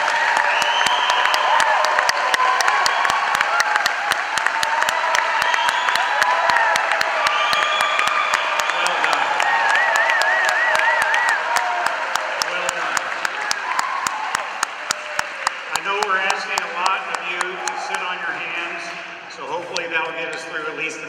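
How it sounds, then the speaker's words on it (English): Sustained applause from an audience at a public hearing on a bulk coal export terminal, dense clapping with cheers and whoops that thins toward the end while voices carry over it. "Let's give a big round of applause for all of the speakers who have spoken and all of the speakers who will speak"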